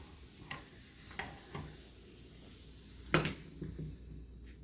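Cooked squash and zucchini seasoned with garlic are spooned from a stovetop pan into a serving bowl: a few soft scrapes and taps of a utensil against cookware, with one louder clink near the end, close and fairly quiet.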